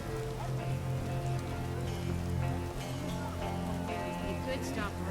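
Steady rain pattering on surfaces in the video game The Witcher, a continuous wash of drops under game music and ambient tones throughout.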